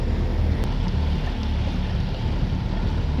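A boat engine runs at full throttle out on the water, a steady dense roar mixed with wind buffeting and hull noise, with no pause and no talking.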